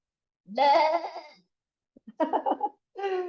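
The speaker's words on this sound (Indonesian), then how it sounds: "dan suara kambing" A goat bleats three times in quick succession, loud and near, with short pauses between the wavering calls.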